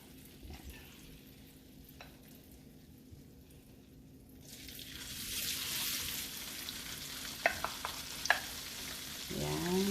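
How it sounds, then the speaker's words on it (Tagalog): Chicken that has marinated for an hour goes into hot butter in a pan. A quiet background hiss swells into a bright, steady sizzle partway through, and there are a few sharp clinks as it is stirred. "mainit ang butter natin. Ilalagay natin yung chicken na minarinate natin ng 1 oras"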